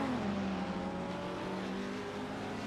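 Race car engine in iRacing's Grand-Am series at Long Beach, a steady sustained drone with strong harmonic bands that dips slightly in pitch early on, loud and continuous with no talk.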